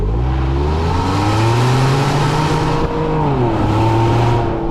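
A Ford Bronco engine and exhaust rev up close and loud for nearly five seconds. The rising and falling tones climb, dip briefly and climb again, with no talk.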